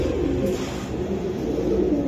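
Pigeons, including paired Pakistani breeds, coo softly and continuously at a crowded pigeon market, low throaty calls blending into a steady murmur close by.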